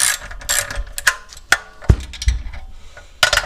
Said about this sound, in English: So I'm going to loosen these 8 mil bolts